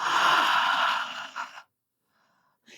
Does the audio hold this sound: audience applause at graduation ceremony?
no